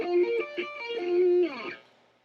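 An electric guitar is sweep-picked through a chord pattern, the pick gliding across the strings so the notes ring out in quick succession before fading, heard alone and close.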